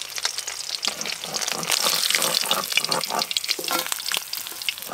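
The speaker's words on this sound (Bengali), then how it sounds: "এই যে মাছ ভাজা করলাম" Pieces of pond fish shallow-frying in hot oil in a home kitchen give a steady, close sizzle and crackle that carries on without a break, with no voices.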